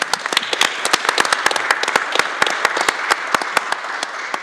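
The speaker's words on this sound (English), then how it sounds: "If we could give them a round of applause." Crowd applause with dense, irregular hand claps, steady and fairly loud throughout, with no voices over it.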